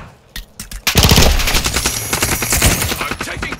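Rapid automatic gunfire in Call of Duty Modern Warfare 2 during a Kill Confirmed match on the Shoot House map, loud close bursts of shots in quick succession that keep up almost without a break.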